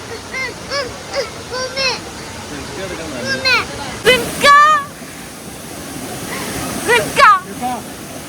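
A child splashes and plays in flowing water while the stream rushes steadily nearby, and excited voices call out and shout over the running water.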